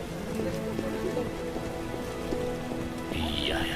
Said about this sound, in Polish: Pada i pada.